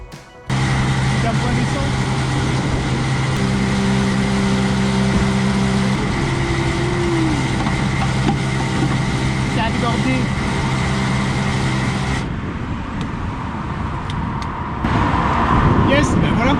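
Motorcycles cruise along a motorway in a sustained, loud engine drone mixed with wind and road roar, holding steady before the tone shifts and settles again toward the end.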